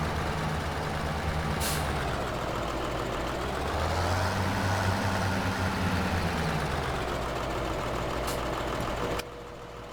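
A small farm tractor from a Giants video game drives along, its engine a steady, loud diesel drone with a slow rise and fall in pitch, running continuously before cutting off abruptly near the end.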